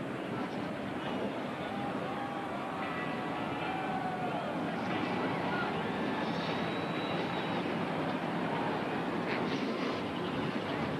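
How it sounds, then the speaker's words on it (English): Several NASCAR stock car engines fire up and roar together on pit road before a 400-mile race, a dense, loud, continuous rumble with crowd noise and announcer talk mixed in. "Engines fire on pit road."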